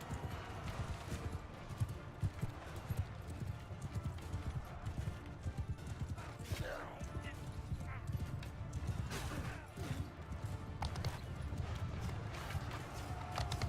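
Horses clip-clopping and galloping in Bannerlord, a medieval combat game, a steady drumming of hooves with an occasional whinny mixed into battle noise while someone talks throughout.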